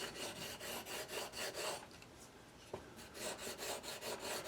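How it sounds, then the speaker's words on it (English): Buffing compound is rubbed back and forth onto a strop-like sharpening surface for a kukri blade, giving a steady, fairly quiet rhythmic scrubbing with a brief pause in the middle. "there are various other buffing compounds of different formulations you can get. And you just rub it on there."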